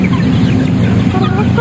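Chickens clucking at close range on a provincial farm, a steady busy murmur of low clucks running throughout with no pauses.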